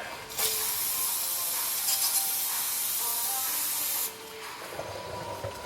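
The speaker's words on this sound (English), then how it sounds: "I also like to hit the rotor with some brake cleaner just to clean it up good." Brake cleaner blasts from an aerosol can onto the brake rotor of a Genesis Coupe with Brembo brakes, a loud, steady hiss lasting about four seconds before cutting off, no talking.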